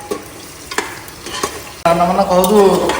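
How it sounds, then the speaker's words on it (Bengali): Mutton for biryani sautéed in a pot, with a few scraping stirs followed by a loud, sustained close sizzle of frying meat, no voices. "এই যে দেখো এখানে বিরিয়ানির মাটনটাকে কষানো হচ্ছে"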